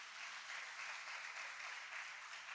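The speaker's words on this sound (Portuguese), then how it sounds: "Dá um aplauso a Ele em nome de Jesus." Congregation applause at a church celebration service, a uniform, continuous rush of many hands clapping, faint and distant with no voices standing out.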